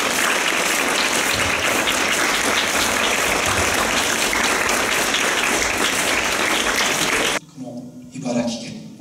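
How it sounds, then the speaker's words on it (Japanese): A crowd applauds to welcome elementary school sixth graders at a civic exchange event, loud continuous clapping for about seven seconds that cuts off abruptly, followed by a brief moment of voices. "大きな拍手で迎えましょう。"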